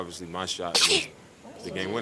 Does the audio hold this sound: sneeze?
yes